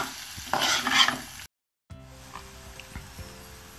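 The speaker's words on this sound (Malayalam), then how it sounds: "എല്ലാം കൂടെ ഒന്ന് ഇളക്കി മിക്സ് ചെയ്തതിന് ശേഷം നമുക്കിതൊന്ന് അടച്ച് വെച്ച് വേവിക്കാം" A banana stem stir fry is stirred in a pan: a brief burst of scraping and sizzling, a short silent break, then a quieter steady sizzle. No voices.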